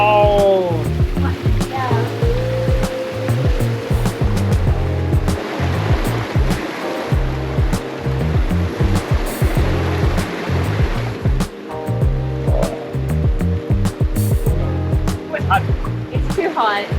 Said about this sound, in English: Jacqueline, look at those bubbles.